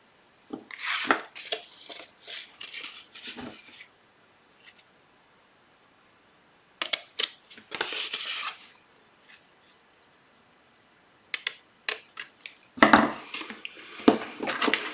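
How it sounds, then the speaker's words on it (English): Paper being cut out into a pocket shape for a Halloween craft project, heard as bursts of close snipping and rustling separated by pauses, with no talking. "So what I am going to do is cut out that shape, repeating."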